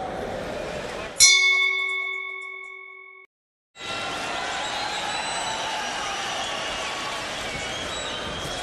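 A boxing ring bell sounds once, loud and close, at a Pacquiao versus Lucero bout, ringing with a long fading tone. It is followed by a brief silence and then steady crowd noise.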